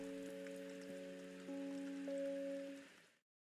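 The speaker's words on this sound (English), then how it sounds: "I watch the raindrops hitting the window pane" Raindrops hit a window pane in a school scene of the visual novel game UsoNatsu, a steady soft patter under sustained musical tones that fades out near the end.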